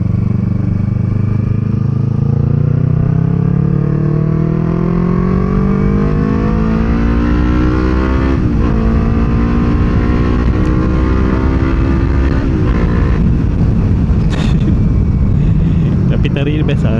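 A 2016 Yamaha R25 V1 sport motorcycle's engine and exhaust sounding continuously up close while riding, with rising revs through the gears, loud and steady.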